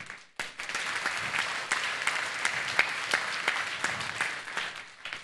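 Members at a journalists' federation meeting applaud to approve resolutions, a sudden burst of steady clapping from a crowd that carries on evenly before fading at the end.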